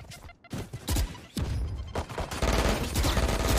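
Rapid gunfire bursts in Valorant, rounds fired through walls, loud and close with repeated sharp cracks and short sustained volleys over several seconds.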